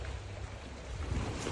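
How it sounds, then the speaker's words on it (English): A sailboat's motor drones steadily at sea in light wind during an ocean crossing, a low continuous rumble mixed with wind and water wash, close and even, with no voices. "We're having to use our motor to help us along right now."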